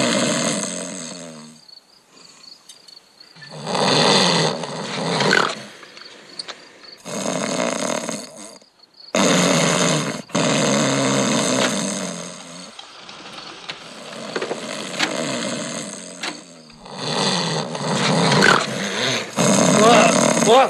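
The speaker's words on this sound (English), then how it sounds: "You mean this tape recording of you not snoring?" Snoring played back from a tape recording in a quiet room: several loud rasping snores in a rhythmic series with short gaps, heard close and alone.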